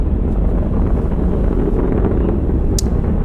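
An Atlas V rocket lifts off carrying the Curiosity Mars rover in November 2011, heard as a loud, continuous low rumbling roar with a wind-buffeted texture that stays dense and unbroken.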